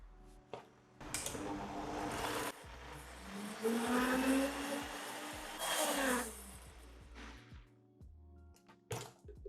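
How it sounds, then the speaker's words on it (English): A blender whirs through cottage cheese pancake batter in two loud bursts of several seconds each, with short pauses and faint kitchen clatter around them. "Blend it just until it's smooth."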